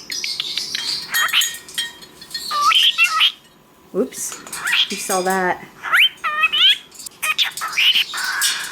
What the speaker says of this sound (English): Such a pretty bird.